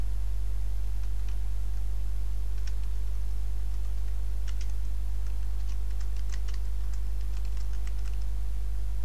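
Soft, fairly quiet computer keyboard typing while entering text into an Excel spreadsheet, irregular bursts of key clicks over a steady low electrical hum, with no speech.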